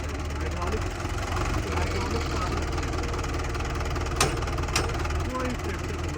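A Belarus 510 tractor engine idles during a hydraulic power test, a steady low diesel rumble running unbroken for the whole stretch, with voices talking over it.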